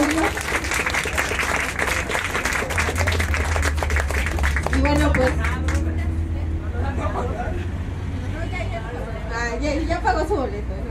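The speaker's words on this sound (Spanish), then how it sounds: "un aplauso para Julio" A crowd at a solidarity raffle applauds winner Julio, with dense clapping over a low rumble of background noise, then thins into scattered claps and chatter as people talk.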